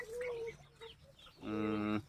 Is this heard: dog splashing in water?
no